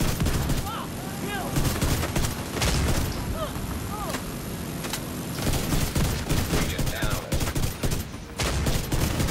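Enemy gunfire in The Division 2 during an Iron Horse raid. Dense bursts of automatic fire and shots rattle almost nonstop, with scattered booms and occasional voices mixed in.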